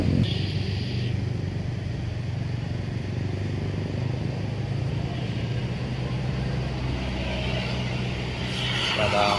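Tour bus with a loud jet-like engine climbing a winding mountain road at Tawangmangu, a steady heavy roar and rumble held close and loud throughout.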